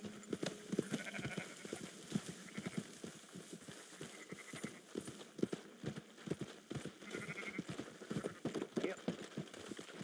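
Hooves clop in a quick, uneven rhythm, with sheep bleating at intervals and voices talking faintly underneath, in the video game Red Dead Redemption 2.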